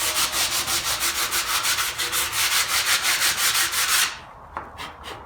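Pallet wood being sanded by hand with sandpaper: steady, rhythmic back-and-forth scratching strokes, close and loud for about four seconds, then stopping into a few faint light touches.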